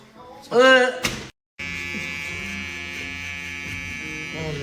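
A person speaks briefly, then an electric razor shaving a head hums steadily, a constant buzzing drone that continues to the end.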